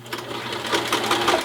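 Sewing machine stitching the bottom layer of a cloth face mask with a quarter-inch seam, a steady close rapid whir of needle strokes running throughout with no talk.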